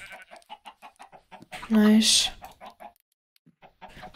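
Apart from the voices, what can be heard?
chickens clucking in a video game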